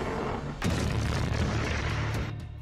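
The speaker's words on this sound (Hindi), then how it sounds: "चौथी मिसाइल, और फिर निकली पांचवी मिसाइल" A missile launched in a Russian attack on Ukraine roars as a heavy sustained rumbling boom that starts abruptly, swells, and holds for about two seconds before easing, heard from a distance.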